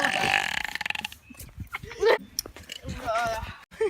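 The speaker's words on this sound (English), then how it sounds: "that's a demon burp" A deep, croaky burp rolls out in bursts, drawn out and gurgling. People talk and react around it, and a second shorter belch follows near the end.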